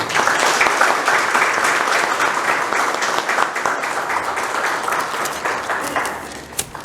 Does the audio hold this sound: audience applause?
yes